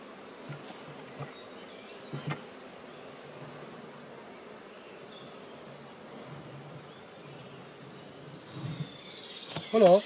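A honey bee swarm in a hive hums as a faint, steady buzz, with a few brief louder knocks near the end.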